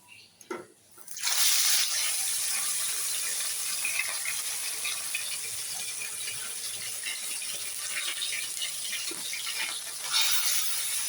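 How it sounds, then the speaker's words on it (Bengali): Parshe fish laid one at a time into hot oil set off a loud, steady sizzle that holds for several seconds after a quiet start. "এবার আমি একটা একটা করে মাছ ছেড়ে দেবো"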